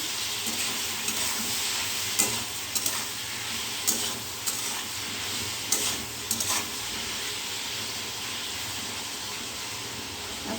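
Tomatoes and potatoes frying in a pan, a continuous soft sizzle with a few light clinks and scrapes of stirring, no voices.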